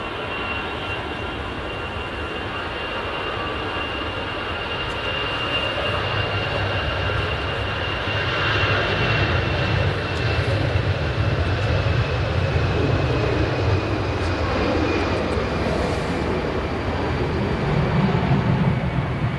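An airliner arriving at Manchester Airport in the early morning gives off a loud, continuous engine roar and rumble that swells a little midway and holds steady for the whole stretch, with no voices.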